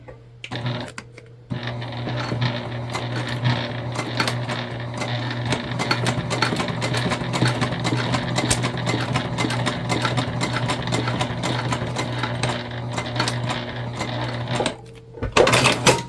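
A domestic sewing machine stitches a flap onto a fabric tote bag in a fast, steady mechanical chatter lasting many seconds, with brief quiet before and after and a clunk at the end.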